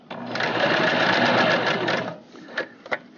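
A sewing machine back-stitches a seam on a stuffed fabric bunny, whirring in a fast, even run for about two seconds, then stopping with a couple of sharp mechanical clicks.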